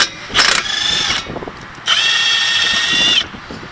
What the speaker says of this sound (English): Next we're going to take our strut nuts loose.